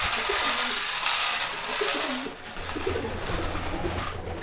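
White pigeons coo near the microphone while being fed corn scattered on the ground, a steady soft murmur of calls over constant background hiss, no talking.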